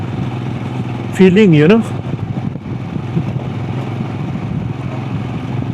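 A motorcycle rides along a mountain road near Kalpa in the Himalayas, its engine a steady mid-pitched drone and wind rush beneath a man's brief spoken words.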